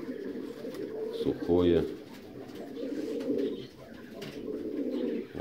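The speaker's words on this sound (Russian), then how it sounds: "Вот такая вот белая моздоцкая птица." White Mozdok pigeons coo in a steady low murmur inside a large dovecote, soft and continuous, with someone briefly speaking over it.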